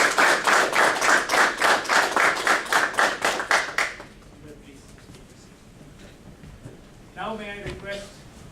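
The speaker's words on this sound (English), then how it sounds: "let's give them a big round of applause" Rhythmic clapping for about four seconds, a small group at a Toastmasters club installation ceremony applauding in even beats, then it stops and a voice speaks after a pause.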